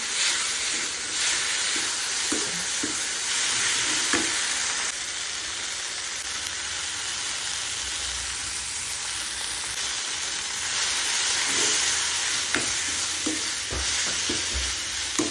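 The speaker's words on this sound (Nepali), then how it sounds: "गुन्द्रुकलाई चाहिँ मजाले भुट्ने" Fermented leafy greens (gundruk) fry in a pan while being stirred, a steady broadband sizzle running throughout with scattered scraping clicks from the utensil; no talking.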